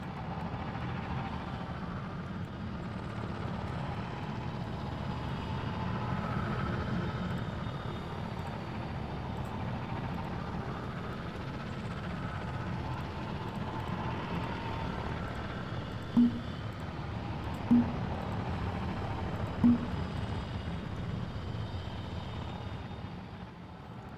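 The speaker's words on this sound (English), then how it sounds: "I don't know what these gunships are doing." Gunship helicopters in a Star Wars video game fly overhead as a steady, loud rotor and engine drone that fills the whole stretch, with a few short sharp blips near the end.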